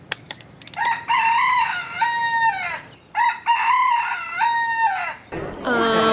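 A rooster crowing loudly and close by, three long drawn-out calls in a row with short breaks between them, followed by a further harsh call at the end.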